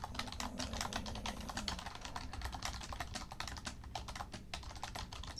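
Rapid, continuous clicking of keys on a computer keyboard, steady and close, with a low background hum underneath.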